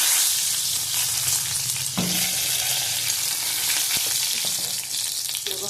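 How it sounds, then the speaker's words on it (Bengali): Bay leaf tempering dropped into hot oil over fried vegetables, a loud, continuous crackling sizzle with a few sharp knocks and stirring scrapes, close up and without talk. "তেজপাতা ফোড়ন দিলাম"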